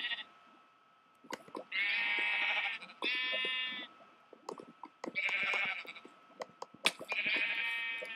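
Sheep bleating in the video game Minecraft, several loud nasal bleats coming in bursts with short gaps between them, plus a few faint clicks and no voices.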